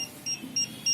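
A Mi drone remote gives three short, thin electronic beeps at an even pace over a faint low hum, fairly quiet and close.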